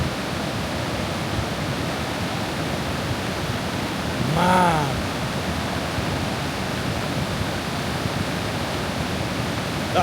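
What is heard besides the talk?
rushing water of a flash flood in a creek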